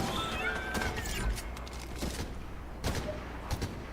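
Scattered gunshots in the video game Fortnite, a series of sharp cracks and bursts at irregular intervals over busy game noise, with a voice heard faintly.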